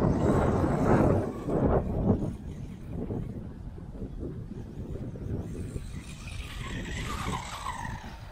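A small motor whines and revs as an RLAARLO XDKJ-001 1/14 RC buggy drives over soft sand and wood chips, with gusts of wind buffeting the microphone throughout.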